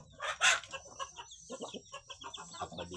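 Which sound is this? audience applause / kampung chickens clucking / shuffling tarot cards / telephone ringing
kampung chickens clucking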